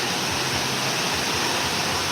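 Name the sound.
rain falling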